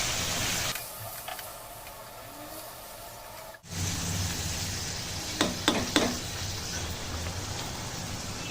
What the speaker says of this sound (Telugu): దీంట్లో ఇప్పుడు మనము కలిపి పెట్టి ఉంచుకున్న చికెన్ వేసేసుకోవాలి